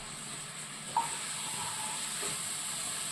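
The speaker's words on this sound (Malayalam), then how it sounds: "നന്നായിട്ടൊന്ന് വഴറ്റി വിടണം" Coconut pieces, crushed ginger, garlic and curry leaves sautéing in a pan for a duck roast give a steady, faint hiss and sizzle, with a brief clink of a utensil near the start.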